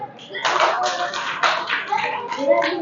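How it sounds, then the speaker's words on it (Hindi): Students in a financial literacy class at a Delhi school break into steady clapping, a dense close patter of many hands lasting the full few seconds without a pause. "उसके लिए तालियां बजा दो पहले तो।"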